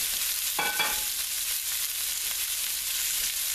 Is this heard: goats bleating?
no